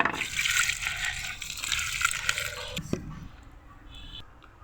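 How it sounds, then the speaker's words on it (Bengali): Dried fish are rinsed by hand in cold water, a loud, steady gush of pouring and splashing water for about three seconds that then thins to faint drips and trickles nearby. "মাছগুলোকে আম্মা ঠান্ডা পানিতে ধুয়ে নিচ্ছে"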